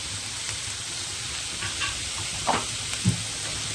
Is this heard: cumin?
yes